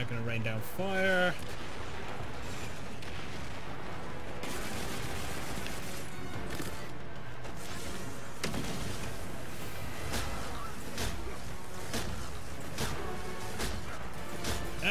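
Explosions and gunfire from the video game Destiny 2 sound densely and continuously throughout, with repeated booming blasts and bursts of shots layered into a loud, busy battle mix.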